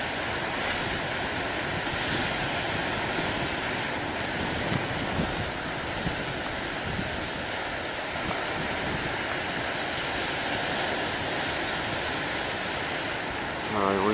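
Moderate ocean waves rolling onto the shore, a steady broadband wash of surf that stays loud and continuous throughout with no distinct breaks between swells.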